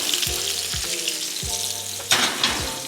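Corn tortillas frying in hot oil to become crispy tostadas, a steady close sizzle with several sharp clunks and scrapes as they are turned, and no voices.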